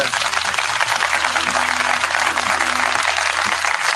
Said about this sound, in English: smattering of applause already